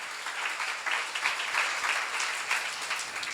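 Dense applause from a congregation at a church seminar sermon, steady and sustained, with no voice over it.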